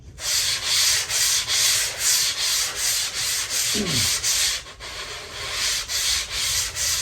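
Steady rhythmic sanding on a surfboard blank, hand strokes rubbing back and forth in a close, continuous scratchy rasp with regular pulses throughout.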